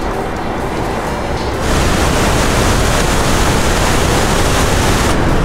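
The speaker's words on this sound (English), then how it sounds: "So this is Niagara Falls in the wintertime" Niagara Falls in wintertime gives a dense, continuous roar of rushing water that swells louder after the first second and a half and then holds steady, broad and unbroken, with no voices.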